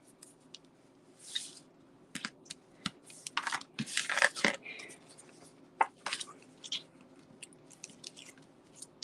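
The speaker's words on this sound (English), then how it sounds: "So I'm just going to come in here, put some of that tear and tape" Tear-and-tape adhesive is pressed on and peeled away, giving scattered close crinkles, sharp rips and sticky crackles in irregular bursts, loudest around the middle, with quiet gaps.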